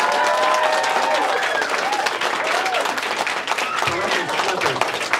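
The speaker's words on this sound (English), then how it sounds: "Boys and girls, big round of applause for the schleppers out here, would you please?" Audience in a school auditorium gives sustained applause and scattered cheers for the families at a middle school holiday chorus concert, loud and continuous throughout.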